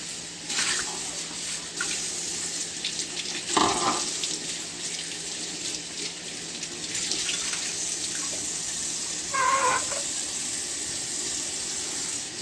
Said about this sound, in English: So we're gonna go ahead and rinse.